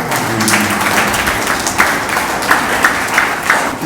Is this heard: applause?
yes